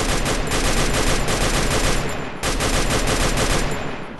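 Rapid automatic gunfire from the video game Free Fire, a loud, dense continuous burst of shots with a brief break midway before firing resumes, no talk.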